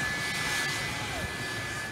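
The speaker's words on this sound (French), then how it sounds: "Quand l'avion s'installe en bout de piste, ses réacteurs font directement face à la plage." A jet airliner's engines roar steadily at the end of the runway at Maho Beach, St Martin, a loud continuous blast of engine noise filling the whole moment.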